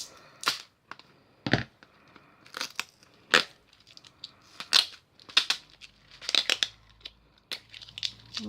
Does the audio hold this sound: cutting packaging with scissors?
yes